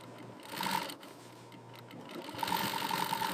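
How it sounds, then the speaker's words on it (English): A heavy-duty walking foot sewing machine stitching thick bull leather with nylon thread, its motor whirring in two close runs with a brief slowdown between them. "Sewing bull leather requires a heavy-duty walking foot machine."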